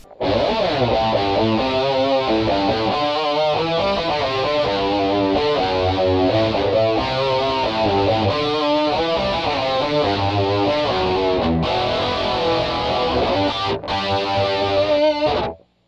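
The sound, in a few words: guitar through G.O.A.T. Generator distortion pedal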